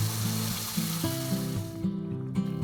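Ground spice paste for masak habang sizzles in hot oil in a wok, a steady close hiss under tonal background music.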